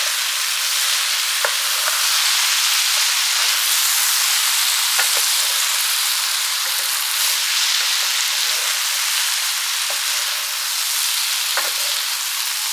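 Gluten-free hamburger helper with rotini and ground beef sizzles in a skillet, a steady close hiss with a few sharp pops and stirring clinks scattered through, no one speaking.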